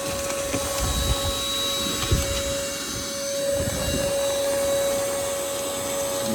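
A DeWalt 20V Max cordless battery ash vacuum runs with a continuous, loud motor whine and airflow hiss. Occasional rattling thumps of debris being sucked through the hose punctuate it.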